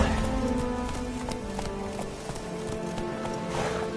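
Roach, the horse in The Witcher 3, gallops with steady rhythmic hoofbeats under a dense wash of game ambience and music, holding constant and fairly loud throughout.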